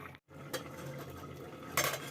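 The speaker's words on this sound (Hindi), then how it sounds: "अब इसे हम ढक्कन लगा देंगे इसका और 1 सीटी आने तक वेट करेंगे" A metal lid is set onto a pressure cooker of khichdi, giving a few faint clinks and scrapes of metal against metal in a quiet kitchen, with a sharper clatter at the end.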